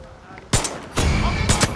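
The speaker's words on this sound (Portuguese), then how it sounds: "Tiros!" Gunfire in the video game Far Cry 6 rings out as loud, sharp shots: one crack, then a heavier blast, then a quick pair of shots close together.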